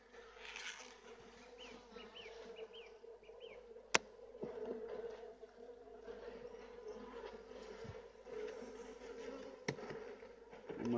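Honeybees at an opened hive during an inspection buzz in a dense, continuous drone close by, with a few sharp knocks and clicks from handling the hive.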